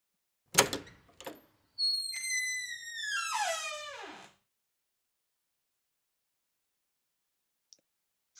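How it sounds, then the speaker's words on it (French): Doors open with a couple of sharp clicks followed by a long squeaky creak that slides down in pitch, then a faint tap after a stretch of silence. "Les portes s'ouvrent."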